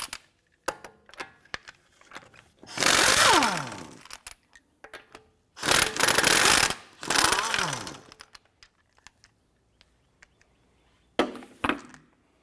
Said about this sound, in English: go ahead and remove your lug nuts.